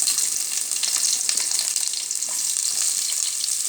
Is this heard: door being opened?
no